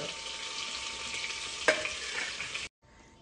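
Chicken fries in oil with a steady, close sizzle. A single sharp clink of a utensil on the pan cuts in partway through, and the sound then stops abruptly into near silence.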